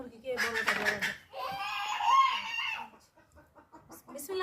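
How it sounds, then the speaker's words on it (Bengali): Chickens at a village home cluck and one crows nearby, fairly clear, with people talking and laughing around them. "এই ছোট মুরগি না ওগুলো বড়"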